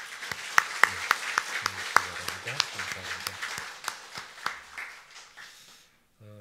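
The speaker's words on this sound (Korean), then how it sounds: "격려하는 의미로 박수 한번 드리겠습니다" A church congregation applauds with a run of scattered claps that thin out and fade after a few seconds, and a voice speaks briefly as it ends.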